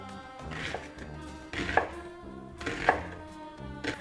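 A knife chopping onions into even slices on a board, a few distinct sharp cuts spaced about a second apart, close and clear with no talk.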